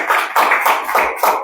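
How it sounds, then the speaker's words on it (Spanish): A church congregation claps hands together in praise, a dense, loud burst of many hands falling into a steady rhythm of roughly four beats per second. "Den una ofrenda de palmas a nuestro Dios"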